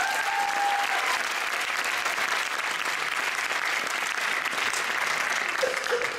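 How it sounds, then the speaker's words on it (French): An audience at a December 2022 speech contest final applauds the candidates again, a steady and fairly dense round of clapping from a hall-sized crowd that holds throughout, with a faint tone briefly audible. "J'aimerais qu'on applaudisse encore Emma"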